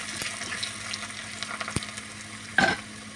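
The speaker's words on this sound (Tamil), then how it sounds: "இந்த சின்ன வெங்காயம் கருக தாளிஞ்சு வரணும்" Small shallots with curry leaves sizzling in hot oil for a lentil curry tempering, a steady soft frying hiss with a couple of brief stirring clatters and one louder sputtering burst near the end.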